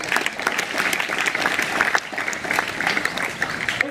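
Steady, lively applause from an audience at a World Hindi Day celebration, continuous clapping throughout with no break.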